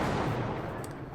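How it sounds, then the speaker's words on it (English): Guns and torpedoes fire from a Fletcher destroyer in World of Warships, a dense, continuous rumble of booming gunfire that stays loud and close with no talk over it. "I shoot off my torps and see if I can get some fires on this guy as well"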